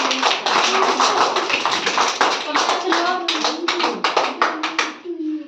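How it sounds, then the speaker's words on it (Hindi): Children clap their hands together at school, a dense group patter that settles into quicker, distinct claps near the end, loud and close with young voices beneath. "ताली बजाओ"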